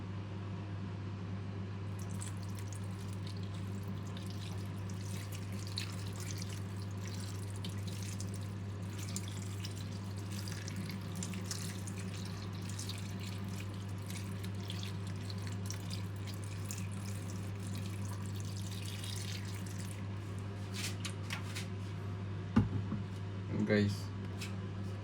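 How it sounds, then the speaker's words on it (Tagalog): Broth is poured into a cooking pot for dinengdeng, a soft, continuous liquid trickle over a steady low hum, with a couple of louder clinks and splashes near the end. "Lagyan natin ng pinakasabaw niya."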